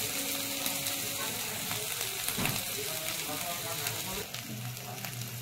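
Cumin powder sizzles in hot oil with ginger, garlic, onion and green chillies, a continuous dense frying hiss with some stirring scrapes.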